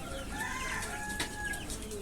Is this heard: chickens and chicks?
yes